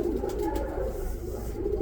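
Young pigeons coo in a loft with light-coloured birds. The low, steady cooing is close and continuous, with a faint hum underneath.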